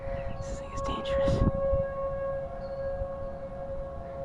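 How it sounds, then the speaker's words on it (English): Civil defense sirens wail steadily in the distance during a severe thunderstorm warning in Omaha, under heavy wind noise with a brief burst of nearby rustling early on. "Sirens are going off now."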